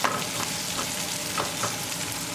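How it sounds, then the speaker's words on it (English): Onion sautéing over medium gas in a pan for a tinda gourd vegetable dish, with a steady close sizzle and a few soft spoon scrapes at regular intervals as it is stirred, no talking. "we're going to saute our onion on medium gas"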